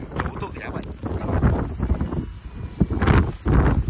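Strong tailwind buffets an outdoor microphone while casting a Shimano SLX DC XT 70XG baitcasting reel, gusts rumbling in uneven surges with people talking over it throughout.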